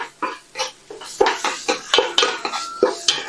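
Onion frying in ghee in a pot for Yemeni Hadrami mandi, stirred with a utensil in repeated scraping, clinking strokes against the pot, close and fairly loud, with a faint sizzle between them.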